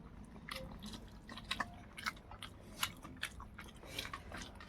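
Someone eating a meal with fish curry close by, making soft wet chewing and biting sounds with small irregular clicks and smacks, quiet and without speech.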